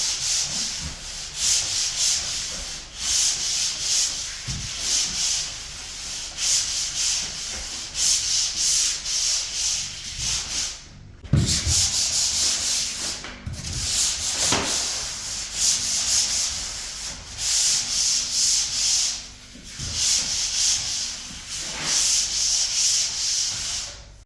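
Sanding drywall over screw spots, two swipes each: a steady, close abrasive scraping in repeated strokes, broken by brief pauses and a couple of soft knocks, with no talking.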